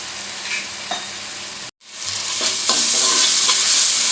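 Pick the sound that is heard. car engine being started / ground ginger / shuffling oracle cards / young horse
ground ginger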